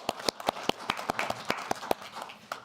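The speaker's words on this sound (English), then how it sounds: "So please give him a round of applause." A small crowd claps at a village board meeting. The applause is light and fairly sparse, with distinct individual claps in a loose, uneven rhythm, heard at a moderate distance.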